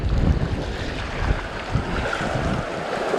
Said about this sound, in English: Chris is just nursing the raft down these rapids. Pretty mild rapids.